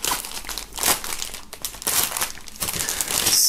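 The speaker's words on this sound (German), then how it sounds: "nachdem das Album und dieser Beutel hier noch verpackt ist, werden wir die mal aus der Folie befreien" Plastic film crinkles and tears loudly up close as it is pulled off a music album and a bag, in a continuous run of crackling bursts with no talking.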